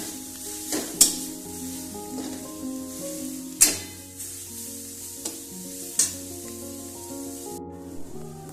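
Wild village-style greens stir-fried in a pan give a steady sizzle, with scraping stirs and a few sharp clanks of the utensil against the pan over a soft musical backing.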